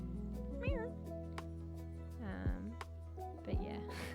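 A cat meow sounds as a stream alert, a few short rising-and-falling meows spaced a second apart over a steady low hum, with a voice talking underneath.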